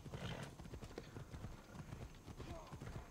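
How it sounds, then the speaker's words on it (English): Hooves clip-clop in a steady rhythm with a brief horse whinny as riders travel in Assassin's Creed Odyssey, the game sounds running under ongoing conversation. "There's another horse."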